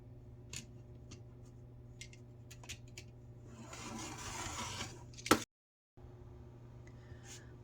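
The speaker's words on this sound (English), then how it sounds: "So we've cut our piece down to size." Scissors cut fabric to size for a patchwork notebook cover, close and quiet, giving a few short snips and then a longer rasping cut that ends in a brief silence.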